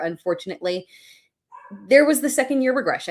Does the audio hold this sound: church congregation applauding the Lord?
no